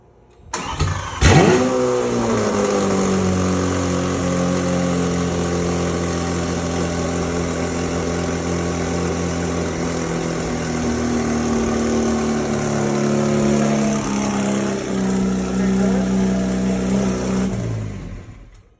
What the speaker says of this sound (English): this is how it's gonna start and sound like when it's basically a cold start